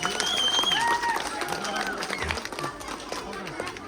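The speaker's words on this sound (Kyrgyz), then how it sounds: "Тамак аштары сонун дегендер болсо дагы бир жолу кол чаап коюңуздар." Audience applauding at a holiday celebration in a cafe, a dense patter of clapping spreading through the room while a voice talks over it.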